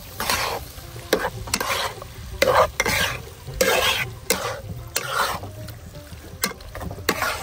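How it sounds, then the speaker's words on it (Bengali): Boiled mushrooms go into a pan of cooked-down spices and are stir-fried, with a spatula scraping and clattering in repeated sharp strokes over a continuous sizzle, close and fairly loud. "মশলা কষানো হয়ে গেছে তো, এবার আমি সেদ্ধ করা মাশরুমগুলো দিয়ে দিচ্ছি।"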